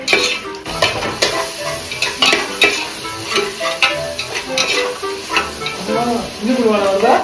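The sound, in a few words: onions frying and being stirred for ghee rice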